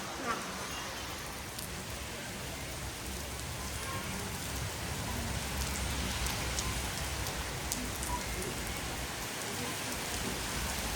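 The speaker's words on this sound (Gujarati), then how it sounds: "ભયંકર પવન સાથે વરસાદ પડી રહ્યો છે" Heavy rain falls with strong wind, a dense, steady hiss of drops pounding surfaces close by for the whole stretch, with no breaks.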